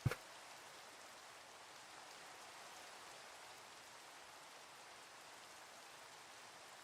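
Steady rain falls as an even, soft hiss that holds through the whole stretch, after one brief knock at the very start.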